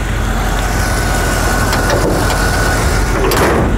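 A 1973 International Scout II drives along with a steady low engine rumble and road noise filling the cabin, heard from inside with a few faint rattles and no talking.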